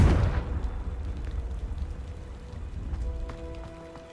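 A Confringo blasting spell goes off in Hogwarts Legacy: a sharp, loud burst at the start, then a crackling, rain-like rumble that slowly fades, with faint chiming tones late on.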